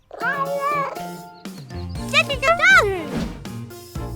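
A cartoon-style cat meows twice in a children's baby-doll episode set around a spoiled picnic, the calls loud, close and pitch-bending, with a child-like voice and a short jingle in between.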